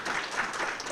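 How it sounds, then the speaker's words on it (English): An audience at a talk event applauds its speakers, a steady dense wash of clapping hands that fills the room without pause. "one final round of applause for our speakers"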